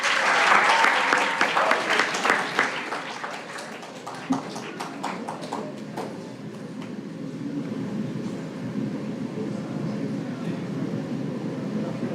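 Applause from the audience at a short film festival, strong and dense at first, then thinning into scattered claps and settling into a low murmur of crowd noise.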